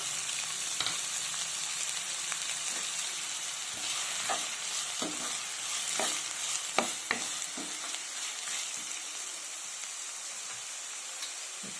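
Potatoes, sprouted peas, onions and green chili cooking in a pan make a continuous sizzle with scattered utensil clinks and scrapes while being stirred; the hiss eases slightly toward the end.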